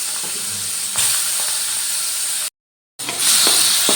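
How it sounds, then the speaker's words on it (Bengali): Salted, turmeric-coated prawns hit hot oil in a wok and sizzle with a steady bright hiss that swells at the drop, breaks off in a short silent gap, then resumes louder and close, with no talk. "তেলটা তো গরম হয়ে গেছে এবার নুন হলুদ মেখে রাখা চিংড়ি মাছগুলো দিয়ে দিলাম"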